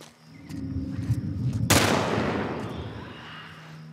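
Enemy gunfire in The Last of Us Part 1, a sudden loud burst of shots followed by a long, decaying echo that fades over a few seconds, with no talking.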